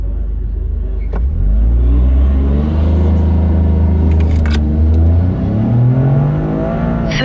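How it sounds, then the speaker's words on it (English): A 2025 Toyota GR Corolla launches hard from a standstill in drive mode on a track, its engine roaring up through rising revs with a shift partway before pulling strongly again, loud and close throughout. "Way better launch."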